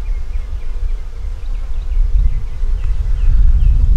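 Honey bees hum around capped queen cells in a hive, a low, steady buzzing up close that swells slightly toward the end.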